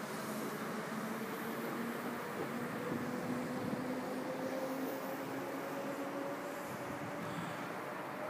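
A Sydney Trains V-set intercity train, with its two DCT cars, rolls past on the line at Berowra, a steady broadband rumble with faint whining tones, continuous and fairly close, without talk.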